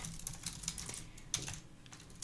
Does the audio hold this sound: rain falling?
no